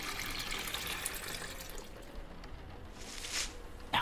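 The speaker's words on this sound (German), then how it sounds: "Und werde mal hier die Blume gießen" A watering can pours over a flower in a hidden-object game, a faint splashing trickle that swells and fades across a few seconds.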